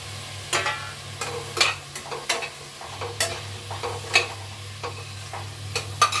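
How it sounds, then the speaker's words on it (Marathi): Peas and a small diced potato sautéing in a pan, a soft sizzle broken by a rhythmic run of sharp spatula scrapes and taps against the metal, close by and with no speech. "हे थोडंसं परतून घेते इथे"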